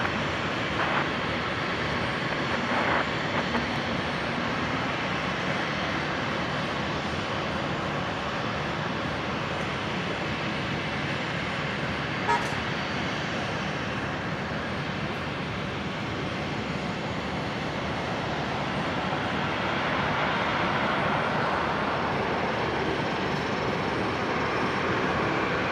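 A Qantas airliner lands at Brisbane airport, its engines a steady broadband roar that stays loud and constant throughout, heard from a fair distance with no talk.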